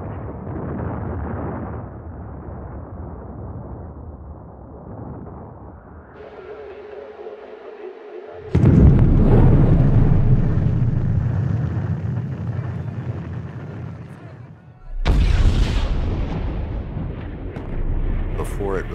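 Nuclear weapon test explosions sound out as loud, deep rumbling blasts: a low roar swells midway and holds for several seconds, then a second sharp, loud burst follows, all over a steady rumbling background.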